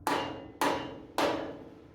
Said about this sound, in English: Grab our hammer and knock this bottom in.